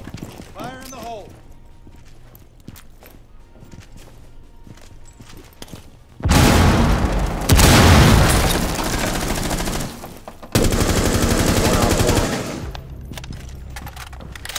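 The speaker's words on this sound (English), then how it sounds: "Deploying breach charge! Fire in the hole." A breach charge goes off in the video game Siege as a loud, sustained roar of blast noise lasting several seconds. It breaks off briefly and then returns, after a quieter stretch with faint game sounds.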